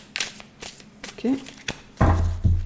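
A tarot deck being cut by hand, with a few soft card slaps and a brief shuffling riffle toward the end, close and fairly loud, amid quiet talk.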